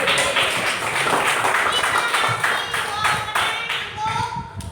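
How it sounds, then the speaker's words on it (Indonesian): A class of students claps for a classmate, a lively, uneven round of clapping mixed with voices talking throughout. "Tepuk tangan untuk kita kasih"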